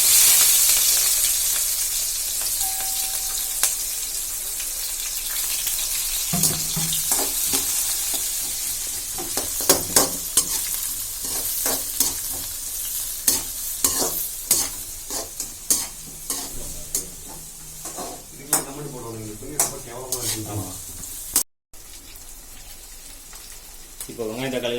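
Chopped onion and green chili fry with mustard seeds in a pan for vegetable Maggi, a constant sizzle under frequent irregular spoon scrapes and clacks that grow busier toward the end.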